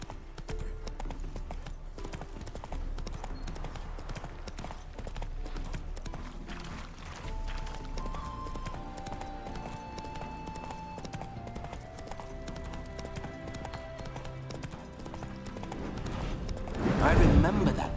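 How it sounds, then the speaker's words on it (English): Horse hooves clip-clop and gallop steadily in The Witcher 3 video game, a continuous rhythmic drumming that runs throughout, with a character's voice heard over it and a brief music sting rising near the end. "Spooking my horse."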